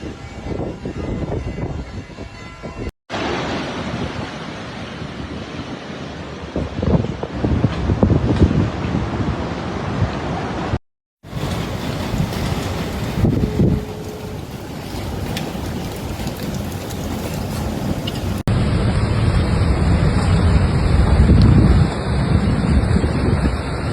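Roaring surf and strong wind from Cyclone Harry in Italy blend into a loud, continuous rush, with waves up to 9 meters crashing and gusts above 74 mph buffeting the microphone throughout, interrupted by brief cuts.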